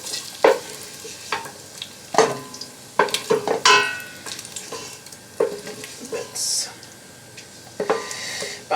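Bacon frying and being stirred in a pan, a steady sizzle under repeated scraping and clinking stir strokes at close range.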